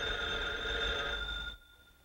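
A telephone rings in an old radio drama, a steady electric ring that holds for about a second and a half and then cuts off, leaving near silence.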